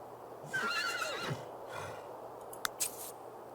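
A horse in The Sims 3 video game lets out a loud, wavering whinny that rises and falls for about a second, followed by a snort, then a couple of sharp clicks and a brief rustle against quiet background.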